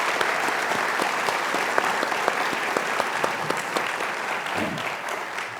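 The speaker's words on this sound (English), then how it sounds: "Let's give them a round of applause." Audience applause for student government leaders at a university campus event, a sustained, crisp patter of many hands clapping with little speech over it.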